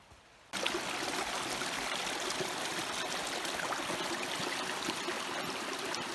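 Steady, loud rush of clear stream water flowing over rocks at a hiking trail crossing in the Eagle Rock Loop area, starting abruptly and continuing without talk.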